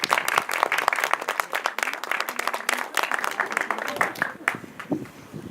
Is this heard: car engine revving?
no